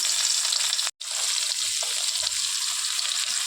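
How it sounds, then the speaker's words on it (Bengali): Bhola fish frying in hot oil, a dense, steady hiss of sizzling close by that cuts out briefly before resuming just as loud. "তেল গরম হয়ে গেছে, এখন মাছগুলো এক এক করে দেব।"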